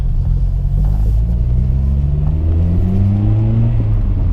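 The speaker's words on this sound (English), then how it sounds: "just my intake and the knocking of my exhaust" Heard from inside a Honda Civic EP3 Type R with an aftermarket intake and Powerflow exhaust, a loud, deep engine drone rises steadily in pitch as the car accelerates.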